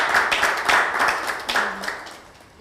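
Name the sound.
audience applauding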